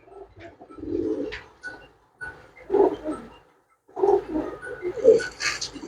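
Flying pigeons kept for sale coo in a few short, throaty bursts close by, separated by brief pauses, with no voices over them.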